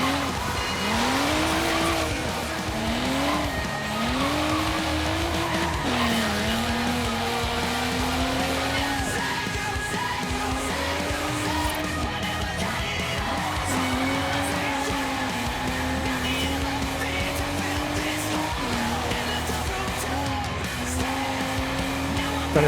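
A car races through Forza Horizon 3 in Australia, its engine revving up and down through repeated gear changes and cornering, with tire squeal and skidding mixed in, loud and continuous; a navigation voice speaks over it.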